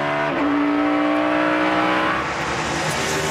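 NASCAR Nationwide Series race cars run side by side on the Road America road course, engines roaring loudly and continuously with rising and shifting pitch as they accelerate together.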